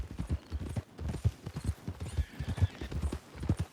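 Horse hooves clip-clopping at a steady trot in Red Dead Redemption II, a regular rhythmic beat of close, muffled thuds with no talk over them.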